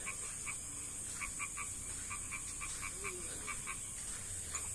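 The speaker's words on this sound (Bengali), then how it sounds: "শুনছেন ব্যাঙের শব্দ? একটা ব্যাঙই ডাকতেছে।" A single frog croaks at night in a Bangladeshi village, giving short repeated croaks in loose clusters, faint and fairly distant over a steady hiss of night insects.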